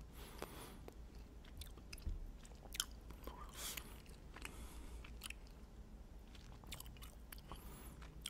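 Gum is chewed close to the microphone in a soft, quiet setting, with irregular wet clicks, smacks and squishes that go on steadily without talk.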